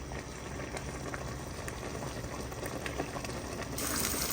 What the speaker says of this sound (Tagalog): Pinakuluan ko muna po ang tubig. Nilagyan ko po siya ng oil at saka konting asin.